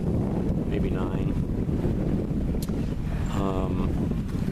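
Wind of about 8 to 9 knots gusting across a lake while out sailing on a warm afternoon, a steady loud rumble buffeting the microphone, with brief faint voices in the background.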